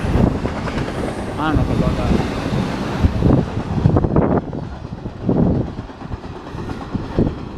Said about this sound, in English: Train coming. I'm not sure if it's Amtrak or not